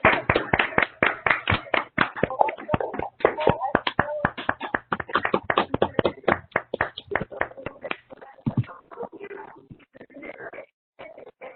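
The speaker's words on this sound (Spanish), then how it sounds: "brindarle un fuerte aplauso" Applause from a conference audience, loud close hand claps in a dense irregular patter that thins out toward the end, with scattered individual claps.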